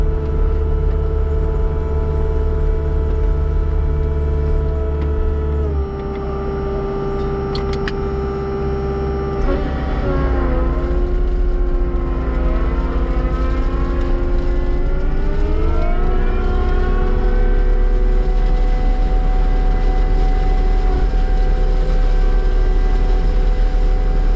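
A mulching machine works a suburban back yard, its heavy engine droning loud and steady with a deep rumble, the pitch dipping and rising under load several times before settling back into a constant roar.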